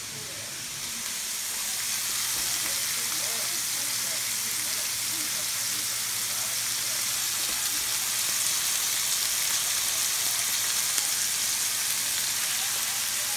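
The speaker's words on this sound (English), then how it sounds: "I'm gonna cook the french fries." Steady sizzling hiss of french fries frying in a pan on a home stove, an even, continuous crackle that rises after the first couple of seconds and holds at moderate level.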